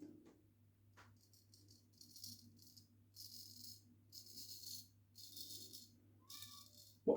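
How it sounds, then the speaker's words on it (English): Safety razor shaving against the grain, a series of about five short rattling, scraping strokes in a quiet room, each lasting roughly half a second and close by. "What a noisy razor."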